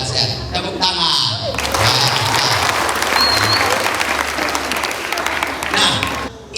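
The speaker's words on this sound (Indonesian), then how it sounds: "Tepuk tangan." Dense, loud applause from a gathered crowd at a student organisation's inauguration ceremony, continuous clapping with voices mixed in before it breaks off.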